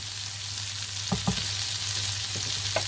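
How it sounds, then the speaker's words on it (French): Toulouse sausages and shallots frying in a pan, a steady close sizzle with a few clinks and scrapes from stirring, no voices. "vous gardez bien vos saucisses de Toulouse dans votre poêle"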